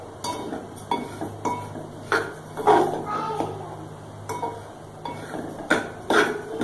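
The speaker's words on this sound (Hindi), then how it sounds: "और इसको कंटिन्यूसली जो है स्पून चलाते रहेंगे ताकि ये जले ना।" A spoon is stirred through sugar melting in a pan, giving repeated scraping strokes and clinks of metal on metal at an uneven rhythm. The sounds are close and moderately loud with a faint low hum underneath.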